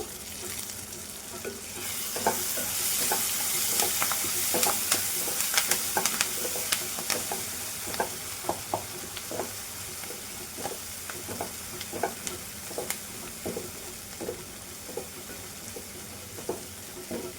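Onions with curry leaves fry in a pan for a pea and cauliflower curry, a steady hiss overlaid by repeated rhythmic scraping stirs of a spoon against the pan, close and without speech.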